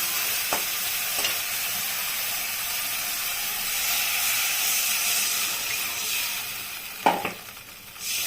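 Water poured into a pan of frying spice paste for a fish curry sets off a loud, steady sizzling hiss close by, with a few sharp clinks and scrapes of a utensil against the pan and no talking.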